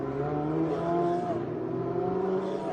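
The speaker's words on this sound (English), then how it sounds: "As now the safety car is rolling and away go the race cars." Ferrari Challenge race cars pull away behind the safety car at Circuit of the Americas, a loud, continuous engine roar with rising, overlapping revs from several cars, close and steady throughout.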